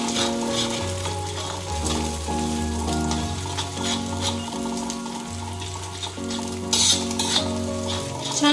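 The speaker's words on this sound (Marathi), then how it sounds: "अंडी मिक्स करून घ्यायची लगेच तेलामध्ये, म्हणजे कांद्यामध्ये मिसळून घ्यायची" Eggs being stirred into onions sizzling in hot oil for egg bhurji, with a steady frying crackle and a utensil scraping and clinking against the pan throughout.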